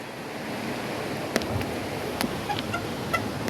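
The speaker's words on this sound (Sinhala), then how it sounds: "මේ යන්නේ ගඟ." Steady broadband rush of a river flowing beneath the old Halaba steel bridge, continuous and moderately loud, with a few brief faint chirps and clicks rising above the water noise.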